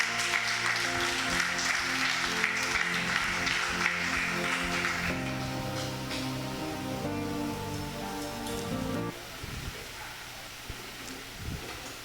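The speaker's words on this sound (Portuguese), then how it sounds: "bate palma para Jesus" Congregation at a church service clapping together, a dense patter of many hands with music tones underneath, thinning out toward the end into scattered claps.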